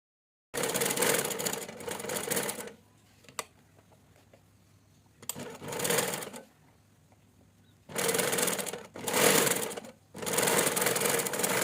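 A sewing machine stitches baby's pants cut from an old nighty, running in loud steady whirring bursts separated by pauses, with a few faint clicks between runs.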